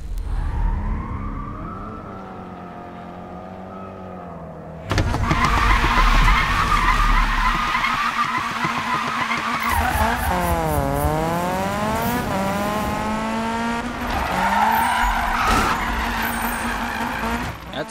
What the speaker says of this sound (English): This car slides out way too much.